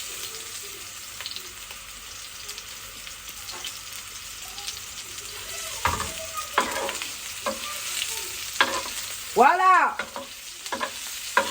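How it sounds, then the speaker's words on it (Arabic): Kofta sizzles and fries in a pan while being stirred, the steady hiss broken by repeated scraping stirs and a louder burst of sizzle near the end; a brief word is spoken. "نحمر بقى الكفته دي على كل الوشوش"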